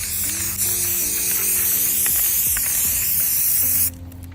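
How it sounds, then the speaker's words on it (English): Steady, loud, continuous hiss of an aerosol spray can painting a basketball, held close for about four seconds before stopping abruptly. "I can always spray paint it back over"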